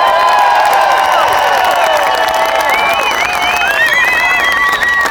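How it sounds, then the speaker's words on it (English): A crowd applauds and cheers at a Cubs baseball event in Mesa, with steady close clapping that fills the whole stretch, along with whistle-like tones and other crowd noise. "How about a round of applause for scouting development?"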